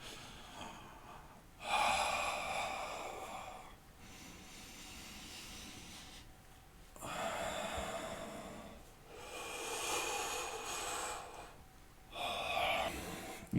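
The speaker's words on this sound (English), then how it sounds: "So each time we raise one hand up, we breathe in" Long, hissing breaths drawn in and out during a yoga exercise, close and steady, repeating in slow waves of a few seconds each with short quiet gaps between them and no talking.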